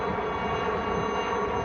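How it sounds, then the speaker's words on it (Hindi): Indian Air Force Chetak helicopters fly past over the sea, giving a loud, steady engine roar that holds evenly throughout and cuts off abruptly at the end. "सबसे पहले वायुसेना के चेतक हेलीकॉप्टर तिरंगा लहराते हुए वहां से गुजरे।"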